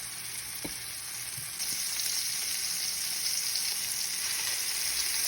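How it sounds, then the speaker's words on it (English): Meatballs browning in a frying pan sizzle in a steady, even hiss that gets slightly louder partway through, with a couple of faint knocks near the start. "So we'll put in all the meatballs as best they fit in and let them brown."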